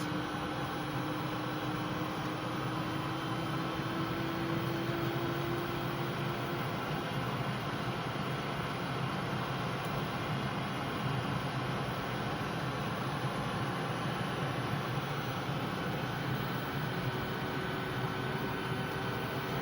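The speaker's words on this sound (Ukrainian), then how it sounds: "Їдемо зараз електромобілем Елвін в вечірню пору" An Elwinn battery-powered electric car driving in the evening gives a steady, faint rolling hum and road noise with a thin whine, continuous and unbroken for the whole stretch, with no talk.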